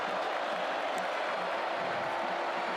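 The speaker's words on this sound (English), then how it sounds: "Crowd here at Scott Stadium getting involved." Dense, continuous roar from a football crowd at Scott Stadium during a Coastal Carolina vs Virginia game, a steady wash of cheering holding level throughout the short stretch.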